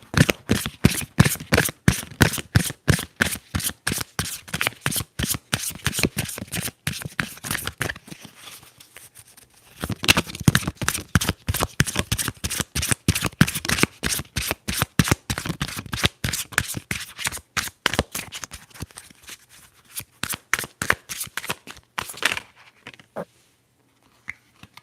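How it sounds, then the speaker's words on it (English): Tarot cards are shuffled in rapid, crisp riffles, close and intimate, in long bursts of fluttering snaps with a short pause midway and a quick stop near the end. "Let's shuffle, shuffle, shuffle."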